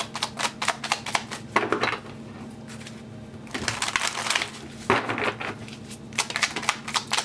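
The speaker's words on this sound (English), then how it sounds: "I'm going to go ahead and start shuffling" Tarot cards being shuffled close by in repeated crisp, rattling bursts, with a low steady hum underneath.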